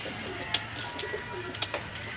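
Pigeons coo softly at a pigeon market in Khulna, a few brief coos standing out over a steady, busy background murmur.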